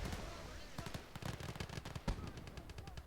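Incoming artillery rounds and rapid gunfire crackle in a steady barrage in the game Ostfront M.A.C.E, a dense, moderately distant rumble of shots and impacts with voices mixed in.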